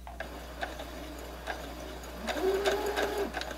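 A Brother HC1850 computerized sewing machine stitches in reverse, a steady close mechanical whir with rhythmic needle ticking that grows louder and busier toward the end.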